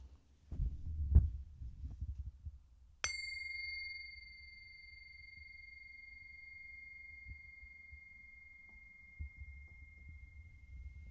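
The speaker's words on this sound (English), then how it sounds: "got my tea bell" A tea bell gives a single clear ding that rings on and slowly fades over several seconds against a quiet room with faint low rumbling.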